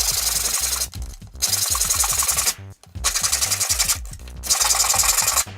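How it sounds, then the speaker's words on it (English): Wood is hand-sanded along the grain for a Christmas ornament, with rough rhythmic back-and-forth scratching strokes in three bursts separated by short pauses, close and fairly loud. "give it a rough sanding, sticking with the direction of the grain on each of the 2 faces"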